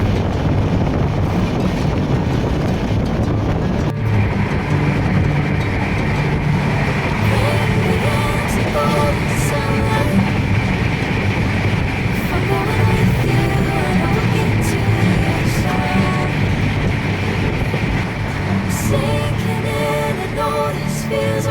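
The 12875 Neelanchal Express runs via Lucknow, passing close with a loud continuous rumble and rhythmic wheel clatter over the rails, punctuated by metallic squeals and clanks that persist throughout.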